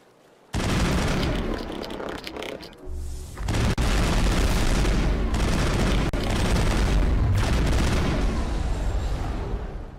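Sustained gunfire and heavy booming explosions from Mass Effect squad combat against Geth forces under crossfire, dense and loud almost throughout with a brief lull before the barrage resumes.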